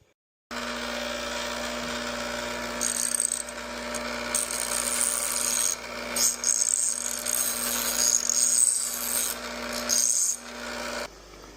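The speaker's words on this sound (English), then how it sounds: "Get them on the grinder and clean them up a little." Electric Dayton chain hoist parts being cleaned on a grinder, a steady motor whine with rising rasping, scraping bursts as metal is pressed against the wheel, close and continuous until it cuts off.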